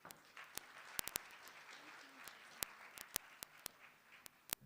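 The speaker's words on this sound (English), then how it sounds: "Another round of applause." A small audience at a Youth Month event claps softly and faintly, a sparse spread of individual sharp claps scattered irregularly rather than a full ovation.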